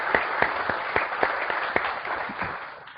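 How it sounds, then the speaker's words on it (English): An audience in a lecture hall gives warm applause to welcome a speaker at a hearing and health talk. Steady, moderately distant clapping from many hands continues throughout with no voices. "And please give Torsten a warm welcome"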